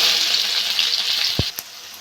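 Onions sizzle loudly in hot mustard oil in a wok, a steady broadband frying hiss with a few sharp stirring knocks near the end; no voices.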